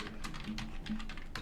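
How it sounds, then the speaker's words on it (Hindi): Typing on a computer keyboard: a short run of light, separate keystrokes at an uneven pace, fairly quiet against a steady background hum. "का एड्रेस टाइप कर दिया और एंटर प्रेस किया।"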